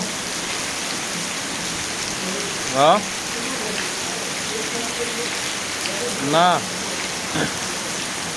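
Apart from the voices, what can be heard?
rain falling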